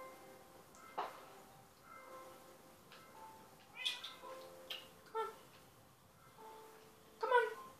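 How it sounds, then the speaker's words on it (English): A cat in Minecraft meows several times in short, separated calls, fairly quiet against a low background, with no talking. "Meow for us."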